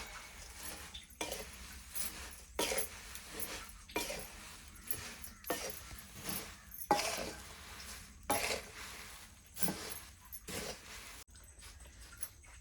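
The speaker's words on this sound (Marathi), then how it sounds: "हा सगळा मिक्स करूया." Bhel being stirred and mixed with farsan in a bowl, a steady run of rhythmic scraping and rustling strokes, close and moderately loud, with no talking.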